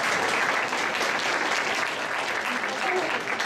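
Audience applause at a student presentation contest, a dense, steady wash of clapping from a large crowd that holds at full strength for the whole stretch, with some voices mixed in.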